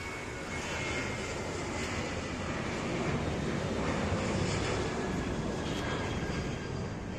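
A steady, broad roar of a low-flying Lion Air passenger jet passing, swelling slightly in the middle and easing off, with no talking.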